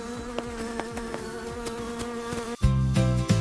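A cartoon bee buzzes with a steady, droning hum close by, joined near the end by a louder, lower burst of sound, with no one speaking.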